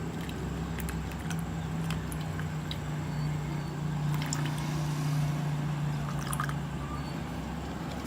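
Distilled water is poured into a container for homemade face cream, a soft, continuous trickling stream lasting several seconds, close and fairly quiet.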